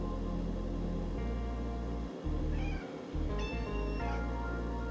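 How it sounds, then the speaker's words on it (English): A house cat meows several times over a loud steady low hum, with drawn-out, wavering meows near the middle and a longer one toward the end, close by and with no talking. "She's a cat."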